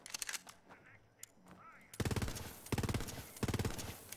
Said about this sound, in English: it's a corrosive gun.